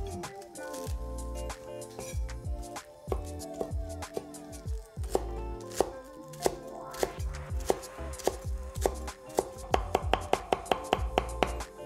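A knife chops home-grown cilantro and green onions on a cutting board, quick irregular close knocks coming in bursts that grow denser and sharper toward the end, no talk.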